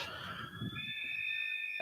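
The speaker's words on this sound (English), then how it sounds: "As the siren sounds." A steady, high electronic siren tone sounds and holds at a women's Australian football match, moderately loud, over a faint murmur of background noise.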